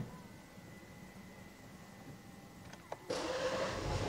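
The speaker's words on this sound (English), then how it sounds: "let's put the foot on the brake and on the start-stop button here on the steering wheel" A 2022 Alfa Romeo Giulia Veloce RWD starts from its start-stop button; a quiet cabin with a faint click gives way to a sudden engine catch and a steady idle.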